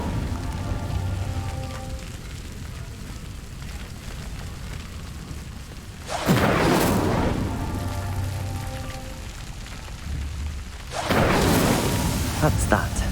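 Incendio fire spell cast in the Hogwarts Legacy video game at night, heard as two loud bursts of whooshing, crackling fire set against a softer ambient bed with faint tones.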